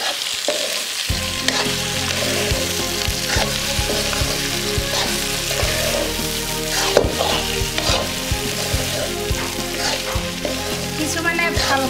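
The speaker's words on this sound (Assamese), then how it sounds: "আহক মোৰ মাংসখিনি ধুনীয়াকৈ ভজা হৈ গৈছে" Meat fries in a pan in an Assamese kitchen, a loud, close, unbroken sizzle with occasional stirring clatter throughout.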